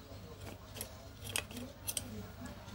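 Dull scissors cut through material in a few quiet, scattered snips and crunches over faint background hiss, with no talking.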